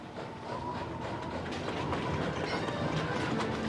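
A train of two locomotives and eleven cars rolls steadily across a bridge over frozen Ashtabula Creek in northeastern Ohio, a continuous rumbling clatter, moderately loud and unbroken, with no voices.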